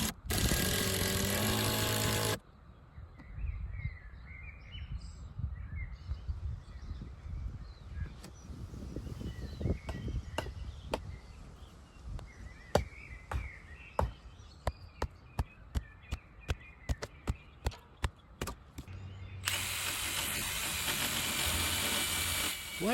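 Cordless driver sinking screws into timber formework bracing for a concrete retaining wall, with a run of sharp, regular ratcheting clicks and bursts of motor whir, fairly close, no talk.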